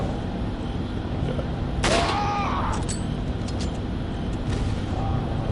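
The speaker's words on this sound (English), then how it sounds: "Just need to grab my rifle and start shooting them up" Rifle gunfire in the video game Resident Evil 4, a loud shot burst near the middle with a ringing tail, over steady game ambience.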